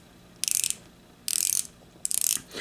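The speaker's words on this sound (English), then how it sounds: "This is a unidirectional bezel." An Alpina Seastrong 300 diver watch's unidirectional bezel is turned in three quick bursts of crisp, close clicking ratchet sounds, separated by brief pauses.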